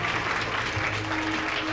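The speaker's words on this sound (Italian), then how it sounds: "bravi, fate pure un applauso" Audience applause at the first Miss Graticolato Romano beauty pageant in 1999, a steady dense clapping from a crowd, fairly distant and even throughout.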